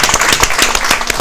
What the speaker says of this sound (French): On applaudit pour vous-même